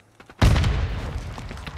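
A grenade bursts in Call of Duty: Modern Warfare II with a single sudden, loud, close boom, followed by a rumbling debris tail that slowly fades.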